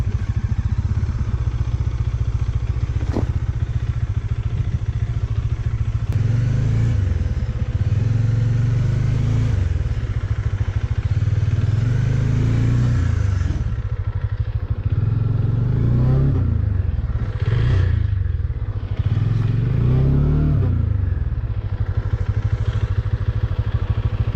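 A heavy motorcycle stuck in mud on a ride from Ooty to Wayanad, Kerala, has a loud, close engine that idles and revs in repeated surges as the rider struggles to move it.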